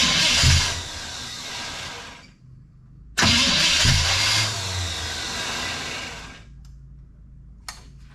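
A 1974 Pontiac Ventura engine cranks and catches in two long loud attempts, each fading to a rough low idle, with a brief sharp knock near the end.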